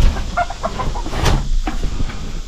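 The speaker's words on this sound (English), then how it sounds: "it's the chickens." Chickens cluck close by on a ranch, a few quick, irregular clucks and squawks over a low background rumble, with no talking.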